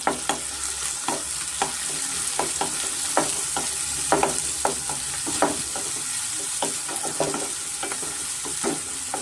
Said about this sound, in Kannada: ಫ್ರೆಂಡ್ಸ್ ಆನಿಯನ್ ಸ್ವಲ್ಪ ಫ್ರೈ ಆಗಿದೆ